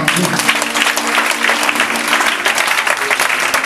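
Congregation applauding in a church, steady loud clapping from many hands filling the whole stretch, dense and continuous with a faint crowd murmur beneath.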